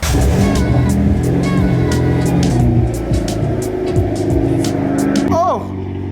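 A Mitsubishi Evo X drives along, its engine droning loud and close from inside the cabin with gear-change pitch shifts, while people talk throughout.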